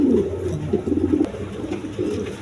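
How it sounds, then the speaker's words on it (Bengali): Several large red pigeons coo steadily nearby in soft, low, repeated murmurs with no voices. "এই যে দেখেন লাল গিয়ারের কবুতর এগুলো"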